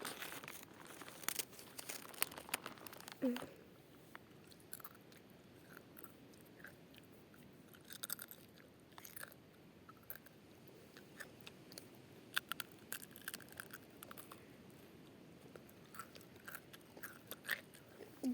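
Chips and dry crackers being chewed and crunched with an open mouth, close and fairly quiet, as a run of irregular crisp bites and smacking sounds, with brief breaks and no talking.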